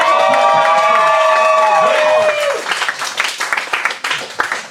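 A crowd at an evening show claps and cheers, opening with loud whistles and whoops over applause, then settling into scattered clapping that fades by the end.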